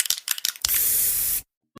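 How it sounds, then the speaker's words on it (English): A can of Krylon Fusion spray paint: several short sharp spurts, then one steady hissing spray lasting under a second that stops abruptly, followed by a faint click. "Today we spray."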